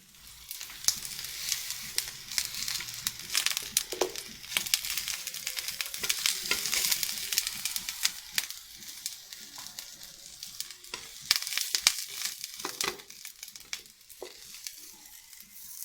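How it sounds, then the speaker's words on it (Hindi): Eggplant slices fry in a pan for sandwiches, a continuous crackling sizzle close up with irregular pops and spatters rising and falling for several seconds, no talking. "ये देखिए हमारे फ्राई हो रहे हैं"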